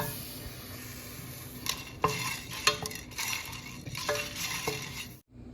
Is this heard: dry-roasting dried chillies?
yes